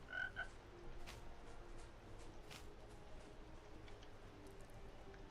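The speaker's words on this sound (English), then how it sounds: "That's a frog." A frog croaks in a video game, a brief clear call near the start over a steady background of ambient game sound, with nothing else standing out.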